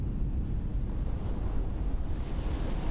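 Ocean waves breaking on an empty winter beach at Haeundae, Busan, a constant rumbling surf roar with gusty wind buffeting the microphone.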